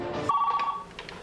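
A cell phone rings aboard an airplane during an in-flight calling test, giving one short, clear electronic tone that fades after about half a second.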